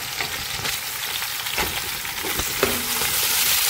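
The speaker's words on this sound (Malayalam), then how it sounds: "ഇതാ നമ്മുടെ ചെറിയുള്ളിയും കൂടി ഇട്ട് കൊടുക്കും." Small onions sizzle as they are tipped into a hot pan while cooking pounded dried beef, giving a steady close frying hiss with a brief utensil clatter partway through.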